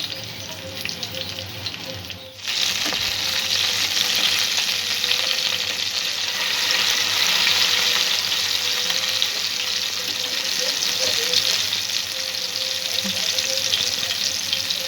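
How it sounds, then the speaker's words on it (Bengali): Masala-coated aar catfish frying in hot oil, two pieces at a time, with a loud, steady broadband sizzle that jumps up sharply after a brief quieter start and continues without pause, close up and with no talking. "সব মাছ ভেজে নেওয়া যাবে না, তাই দুটো করে ভাজছি।"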